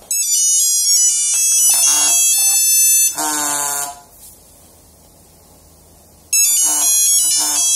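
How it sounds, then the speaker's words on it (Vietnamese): A Nokia 8910 mobile phone vibrates on a table, giving a short, loud, rattling buzz in the middle, between bright polyphonic ringtone phrases that play before and after it; no one speaks. "Chiếc này mà em để điện thoại xuống bàn nó rung"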